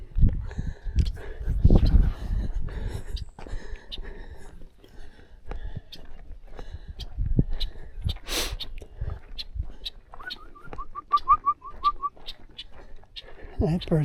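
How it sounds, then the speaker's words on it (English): A Baltimore oriole perched on a trailhead sign along the Panhandle Trail chirps repeatedly, with short clear calls and a brief trill sounding over soft outdoor ambience and footsteps. "That bird's chirping a lot."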